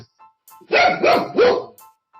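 Pet dogs barking close by indoors, three loud barks in quick succession with faint yips around them.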